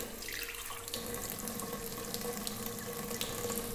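A thin stream of tap water runs onto a hard shaving soap in a bowl, a close, continuous splashing trickle with no voices.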